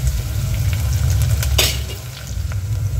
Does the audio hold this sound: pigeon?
no